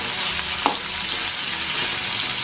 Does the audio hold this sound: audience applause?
no